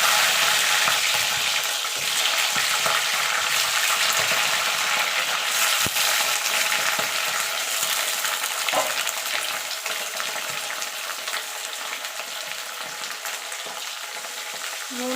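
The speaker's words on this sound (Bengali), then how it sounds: "এবার আমি মাছের মাথাটা আগে ভেজে নেব" Fish heads fry in hot oil in a wok, a dense, steady sizzle with crackling spatter that holds loud and close throughout, easing slightly toward the end, with a few scattered clinks.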